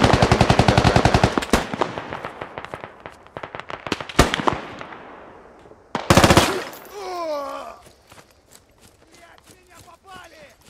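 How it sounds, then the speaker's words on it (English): Heavy machine guns firing in the Squad video game: dense, rapid bursts of automatic gunfire dominate the first six seconds. A final loud burst follows, then quieter scattered shots and whistling sounds. "They're shooting up, heavy machine guns right now."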